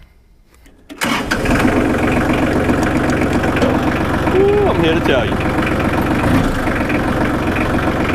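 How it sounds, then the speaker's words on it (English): A diesel tractor engine catches and settles into a loud, steady, rumbling idle close by, with someone speaking briefly over it. "Ain't nothing like a diesel running."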